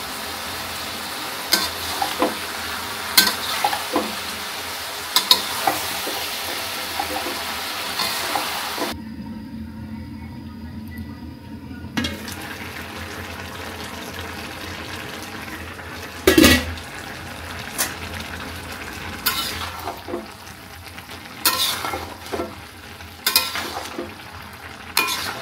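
Ingredients in a pan being stirred while they fry, a steady sizzle with scraping and clinks of a spoon against the pan, briefly quieter midway, no talking.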